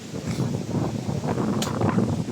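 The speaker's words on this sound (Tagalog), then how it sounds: "Grabe yung hangin no." Strong, storm-like wind on a mountainside buffets the microphone in a steady, loud rumbling roar with gusty swells and no clear pauses.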